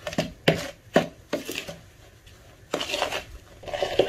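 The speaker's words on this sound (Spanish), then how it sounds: "Y en este caso con una cuchara pues las vamos a ir mezclando." A spoon scrapes and knocks against a bowl while a no-bake, three-ingredient dessert mixture is mixed, giving a series of distinct clinks and scrapes with short pauses between strokes.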